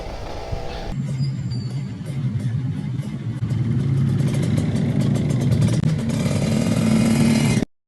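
Kawasaki Ninja RR 150 motorcycle engine revving steadily and loudly on a morning ride, a continuous low throttle drone that swells louder midway and then cuts off abruptly at the end.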